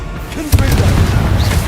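A fiery blast from the Confringo explosion spell in Hogwarts Legacy: one sharp boom about halfway through, then a rumbling roar that fills the rest of the moment amid game ambience.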